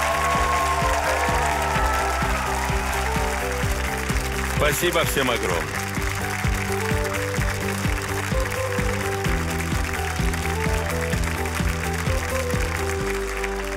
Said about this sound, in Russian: Слышите аплодисменты?